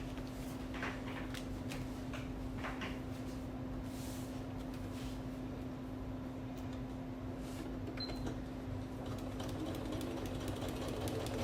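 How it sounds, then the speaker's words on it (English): A sewing machine runs continuously while stitching a long quilt block seam, giving a quiet, steady mechanical hum with faint intermittent clicks and rattles, heard alone without talk. "now we're going to stitch"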